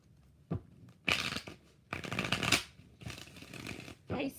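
Tarot cards shuffled by hand in several quick riffling bursts separated by short pauses, close and soft, with no voices.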